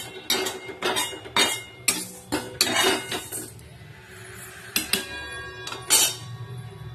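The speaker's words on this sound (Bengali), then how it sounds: "ভালো করে হাতা দিয়ে নেড়ে দিতে হবে" A metal ladle stirs khichuri in a cooking pot, scraping and clinking against the sides in a series of close, irregular strokes with short pauses, and no voices.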